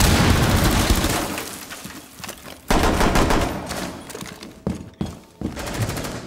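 Revolver shots ring out in Rainbow Six Siege, several loud, close cracks with sharp attacks and ringing decay, spaced irregularly across the stretch amid dense game noise.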